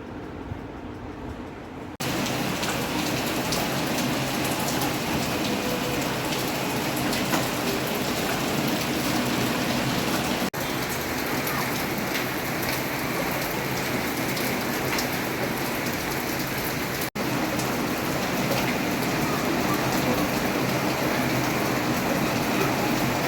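Steady heavy rain falls and patters on surfaces, a dense continuous hiss that starts abruptly and carries on unbroken, with no voices.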